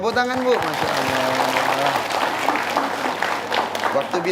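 Women of a religious study gathering clap together, the applause steady beneath a host's voice and a brief tonal phrase at the start, with talk continuing over the clapping.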